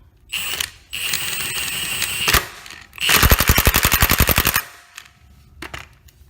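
Milwaukee impact wrench running lug nuts onto a wheel, with two sustained whirring runs followed by a loud, rapid hammering rattle of impacts, close up and with no talking.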